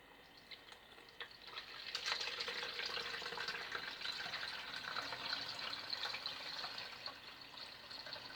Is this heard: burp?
no